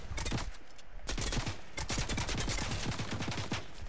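Rapid gunfire crackles in a Fortnite-style building shooter, dense bursts of automatic shots with a few pauses, close and loud throughout, with no talk over it.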